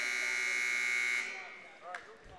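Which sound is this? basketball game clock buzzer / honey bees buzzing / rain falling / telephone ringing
basketball game clock buzzer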